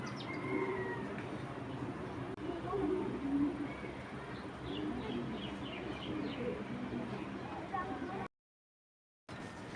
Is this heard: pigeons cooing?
yes